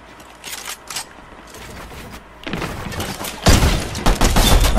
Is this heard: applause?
no